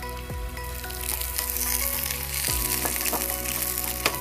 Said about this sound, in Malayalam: ജസ്റ്റ് ഒന്ന് വഴറ്റിയെടുക്കുകയാണ്.